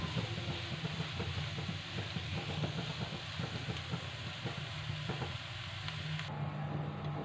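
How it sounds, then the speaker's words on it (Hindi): Rice being stirred into egg fried rice in a hot pan gives a steady, loud sizzle, with scraping and clattering from the spatula throughout and no talking. "थोड़े थोड़े चावल डाल के साथ साथ हम इसको मिक्स करते जाएंगे।"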